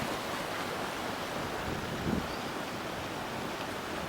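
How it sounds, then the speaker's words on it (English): A snow-fed mountain river in the Caucasus of Georgia rushes past in a steady, dense roar of fast-flowing water, loud and continuous with no voices. "This time the water was just pumping."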